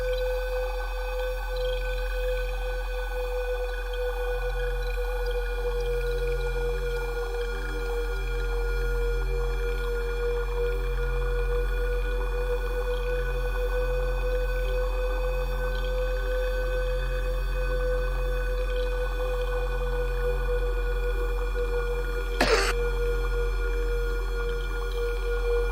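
Sustained synthesized drone from the NoInputMixer app on iOS, steady layered tones washed in reverb, holding evenly throughout with one brief bright click late on.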